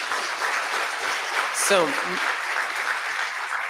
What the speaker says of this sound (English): A big applause to her question first.